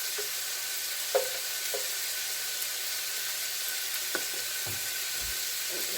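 Food stirred in a hot pan with olive oil and paprika while making hummus: a steady sizzling hiss runs throughout, broken by occasional soft clicks and scrapes of a utensil against the pan.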